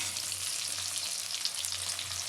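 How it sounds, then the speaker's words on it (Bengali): Hilsa fish fries in hot oil, a close, even sizzle and crackle that holds steady for the whole short stretch, with no voices. "মাছ ভাজি শুরু করে দিয়েছে, দেখা যাক"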